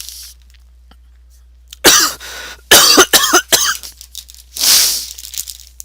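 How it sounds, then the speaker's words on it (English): A man coughs repeatedly in several harsh, loud bursts, with throat clearing between them. No one speaks, and the room is otherwise quiet. "just coughing all over the place"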